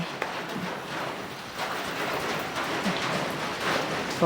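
Heavy rain falls steadily outdoors, a dense, even hiss of drops hitting surfaces that stays loud throughout with no pauses.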